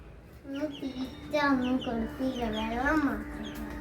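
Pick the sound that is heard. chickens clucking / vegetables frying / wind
chickens clucking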